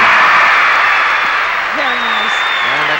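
Applause from an arena crowd greets a balance beam round-off double back dismount at the 1984 McDonald's American Cup gymnastics meet, loud, dense and continuous under a commentator's voice.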